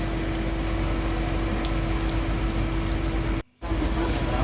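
Heavy rain pours steadily at Terminal Baru Solo bus terminal, a dense continuous wash of water with a steady low hum underneath, briefly cut off near the end before resuming.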